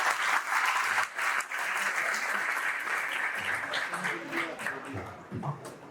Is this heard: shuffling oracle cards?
no